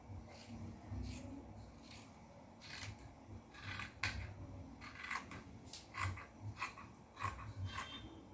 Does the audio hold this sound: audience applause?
no